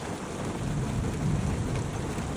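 Steady rain pours down in a mountain forest with a low, distant rumble of thunder building briefly underneath; no voices.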